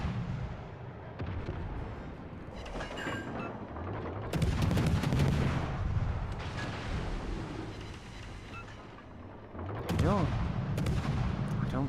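Warship main guns firing in World of Warships: Legends, with heavy booming salvos and crackling blasts arriving in bursts, two louder volleys rolling over the background noise of battle, and a voice speaking faintly at times.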